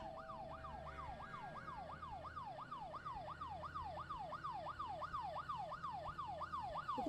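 A police car siren in the horror video game Fear To Fathom wails in a steady, fast up-and-down cycle, sounding close and continuous throughout, with faint low rumble beneath and no talking.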